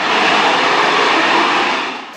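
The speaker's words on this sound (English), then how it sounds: "Harrier jump jet perform crazy jump stunts on aircraft carrier." A McDonnell Douglas AV-8B Harrier II jump jet operating from an aircraft carrier gives off a loud, steady broadband engine roar that fills the whole stretch and eases off slightly at the end.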